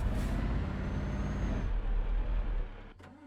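Heavy truck engine rumbling steadily in a driving simulator played on a Logitech G29 wheel, a soft air-brake hiss near the end as the handbrake is pulled.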